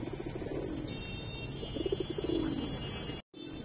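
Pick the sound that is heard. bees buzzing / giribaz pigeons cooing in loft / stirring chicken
giribaz pigeons cooing in loft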